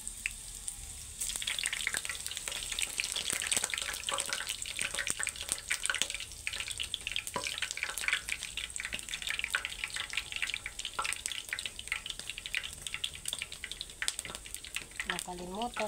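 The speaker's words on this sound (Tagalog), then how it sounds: "Kaya prito na natin yung talongin." Eggplant frying in hot oil in a home kitchen, a steady dense crackle and sizzle running throughout at close range, with faint clinks and background noise.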